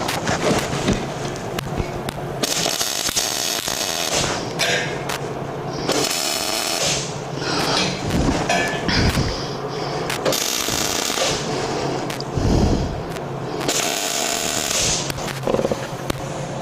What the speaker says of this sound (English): what I'm going to do first is just tack weld this